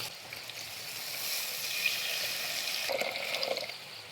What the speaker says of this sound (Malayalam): അരപ്പിൻ്റെ വെള്ളം കൂടെ ഒഴിച്ച് കൊടുക്കുക